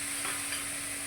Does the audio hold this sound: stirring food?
yes